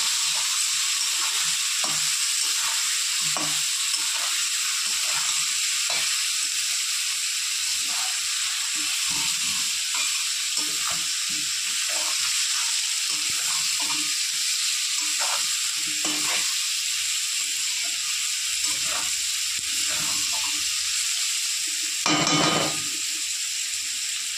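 Potatoes frying in a pan with salt and turmeric, a continuous close sizzle and hiss with frequent scraping stirs of a spatula throughout and one louder clatter near the end.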